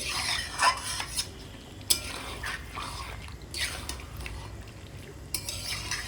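Meat with yogurt and salt being sautéed in a pan, with quiet scraping stirs and occasional sharp spoon clicks against the pan over a faint sizzle.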